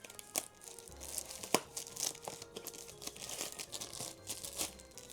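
Plastic wrapping being torn and peeled off a Pokémon card display box, close crinkling and crackling with sharp tearing snaps scattered across the whole stretch, no voices.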